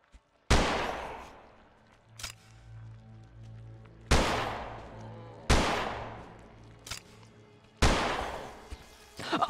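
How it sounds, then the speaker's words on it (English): Shotgun blasts in the video game Holstin: four loud, heavy booms spaced a couple of seconds apart, each with a long decaying tail, plus a smaller click-like sound between them. "Really gonna need to use the shotgun here"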